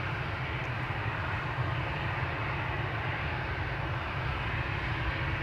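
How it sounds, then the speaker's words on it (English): A Transavia airliner bound for Alicante takes off at Amsterdam Schiphol, a distant, steady low jet roar rumbling without a break. "There's a line cutter from Transavia to Alicante that skipped ahead. It's now taking off as we speak"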